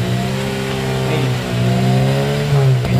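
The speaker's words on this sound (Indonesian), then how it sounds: "Nah, ini coba mau digas. Starlet tahun 87, suara mesin masih seperti ini." A 1987 Toyota Starlet 1.3 SE engine with a dry exhaust revs up nearby, its loud tone climbing and dipping in a couple of throttle blips over about three seconds.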